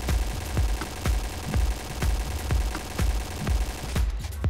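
Steady bursts of automatic fire from an AUG machine gun in the shooter game Point Blank, loud and rhythmic at roughly two shots per second for several seconds, with no talk over it.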